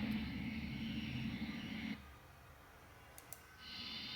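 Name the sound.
2010 Hess toy jet plane dive sound effect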